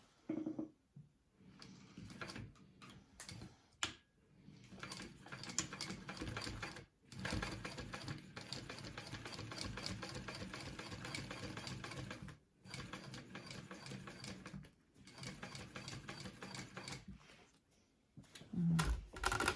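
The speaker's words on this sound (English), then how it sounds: "I am just going to back stitch." A sewing machine back stitching a fabric wallet near a zipper tab, running in short steady bursts with brief pauses between runs, close and fairly quiet.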